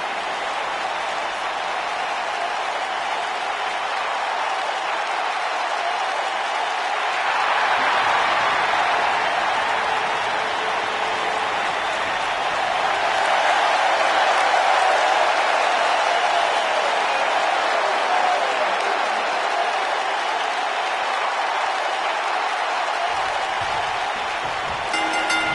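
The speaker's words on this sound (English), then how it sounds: "it sounds to me like the crowd is more than ready for this one" A wrestling arena crowd in a WWE game roars and cheers in a continuous broad wash of noise that swells midway through and holds steady for about half a minute, with no talking.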